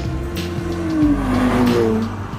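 Turbocharged Mercedes-AMG SLC 43 accelerating hard, a loud close engine note climbing through the revs with a brief gear-change dip, strong and continuous without talk.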